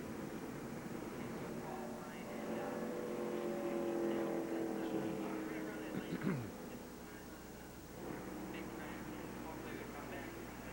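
NASCAR Busch Series race cars circling slowly under caution at the Miami 300, engines droning at a distance with a car sweeping past midway, under a broadcast commentator's voice.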